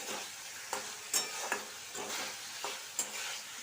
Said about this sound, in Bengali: মশলা ভাজা প্রায় কমপ্লিট